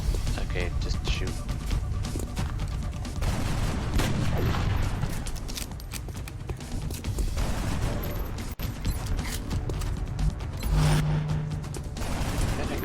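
Gunfire in the XCOM: Enemy Within strategy game sounds as sustained noisy bursts of weapon fire and mechanical clatter across the whole stretch, with a voice talking over parts of it.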